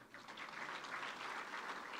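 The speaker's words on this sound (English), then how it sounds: "So another round of applause to them." Steady applause from the audience at a 2024 graduation ceremony for students finishing five years at school, a dense wash of clapping that holds evenly for the full two seconds with no voices over it.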